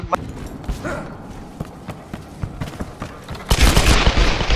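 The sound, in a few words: minigun gunfire in a video game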